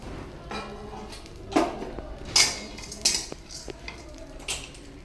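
Dried fish chutney ingredients dry-roasting in a hot kadhai, stirred with a metal spoon that scrapes and clinks against the pan in several sharp strokes over a faint background hiss.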